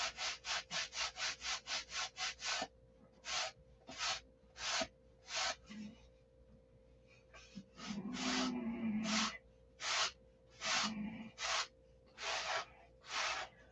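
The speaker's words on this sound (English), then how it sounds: "The trick of sanding with this coarse sandpaper is knowing when to stop." Rhythmic strokes of coarse sandpaper against a wooden piece being shaped: a fast run of short rasps, then slower, spaced passes, close and clear, with a soft voice or breath murmuring between some strokes.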